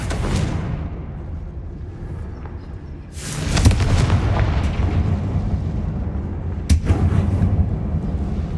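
A Confringo fire spell blast in Hogwarts Legacy, cast inside a closed, tomb-like mine: a sudden loud burst followed by sustained rumbling, then a second sharp crack near the end.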